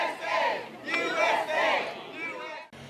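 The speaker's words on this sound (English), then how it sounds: "An enthusiastic crowd welcomes former President Donald Trump to Alaska." A crowd at a rally for former President Donald Trump in Alaska shouts and cheers in loud bursts of massed voices, cut off abruptly near the end.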